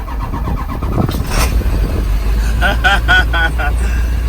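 An International 4700 truck engine cranks and catches, a low rumbling start that settles into a steady idle with a few revving pulses, while someone speaks excitedly over it.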